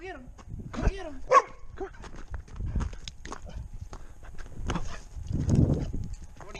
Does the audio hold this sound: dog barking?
yes